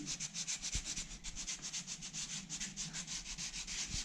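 Steady rhythmic scraping of a handheld sanding pad lightly rubbing down fiber tape showing through on a painted wall, repeated short strokes at close range with no talking.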